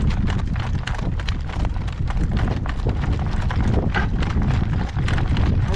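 A horse's hooves beat in a steady, rapid working-trot rhythm, close by, under heavy gusting wind noise on the microphone during a gale-force windstorm.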